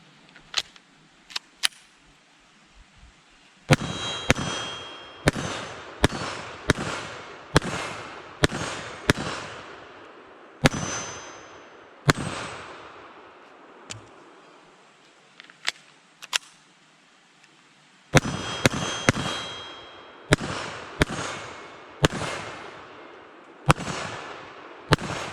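A Walther WMP .22 Mag pistol fires a long string of loud, sharp gunshots outdoors, some in quick bursts and others spaced out, each crack decaying briefly, with no speech between them.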